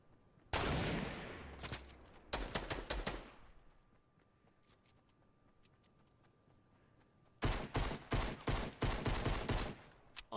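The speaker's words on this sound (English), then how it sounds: "That means I'm being shot at." Loud bursts of rapid gunfire in the Fortnite Battle Royale game, aimed at the player: a long rattling volley, a quiet gap of several seconds, then another string of rapid sharp shots, no talking.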